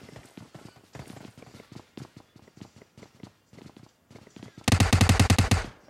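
Sustained automatic gunfire from a PUBG Mobile scrimmage match bursts in loud, rapid and dense near the end, after a stretch of quieter, scattered in-game clatter and footstep-like taps.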